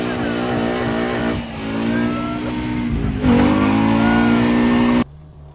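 A five-cylinder engine swapped into a Mk2 Golf GTI revs hard against its rev limiter, holding a loud, steady, buzzy drone with a sharp climb near the end before cutting off abruptly.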